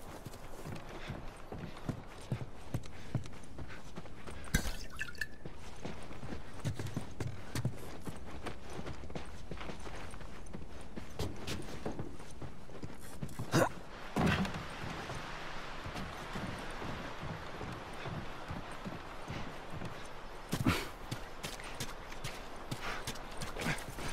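Horse hooves clip-clop in a steady walking rhythm in The Last of Us Remastered video game, over a constant ambient background, with a few louder knocks standing out now and then.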